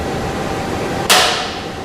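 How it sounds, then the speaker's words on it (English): A dead blow or brass hammer raps once on the top of a machine spindle drawbar, giving a single sharp, loud, close knock that quickly decays in an otherwise quiet space. "take a hammer, a dead blow hammer or a brass hammer, and give it a quick rap on the top of the drawbar"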